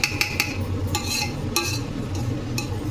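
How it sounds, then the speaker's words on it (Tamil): Mutton biryani rice stirred with ghee in a pot: a spoon scrapes and clinks against the metal in a steady, close rhythm, with occasional sharper taps over a low background hum. "நெய் விட்டுட்டு அரிசி உடையாம கலந்து விட்டுக்கலாம்"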